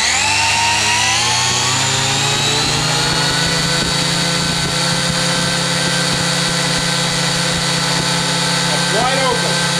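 A small Syma X8C quadcopter, strapped down with rubber bands for a thrust test, holds a loud, steady, close motor and propeller whine that rises slightly in pitch at the start.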